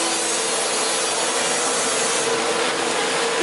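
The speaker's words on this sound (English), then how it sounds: "This gives you some idea of how much sawdust we've removed, planing the wood." A hand plane shaves old teak wood on a workbench in one continuous, close, rasping stroke with a steady scraping hiss and no talk.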